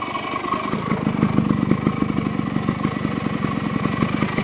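A 1975 Yamaha DT175 street-legal enduro motorcycle with a two-stroke engine running close by, a steady rapid putter near idle with a slight rise in the middle, no voices.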